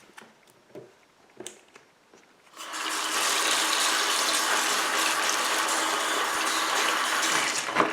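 Tap water gushes steadily into a sink as hands are washed beneath it, a loud continuous rush that starts abruptly after a few soft knocks and clicks.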